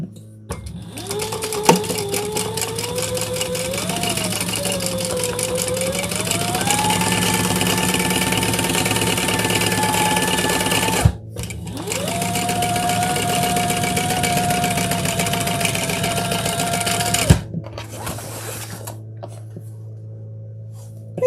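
Sewing machine stitching across the top of a beach tote, a loud close motor whir running steadily in long runs that change speed, with short stops between passes.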